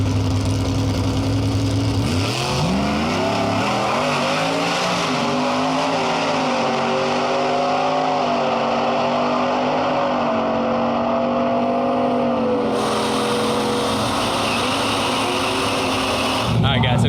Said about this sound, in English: This will be the second pass in the work truck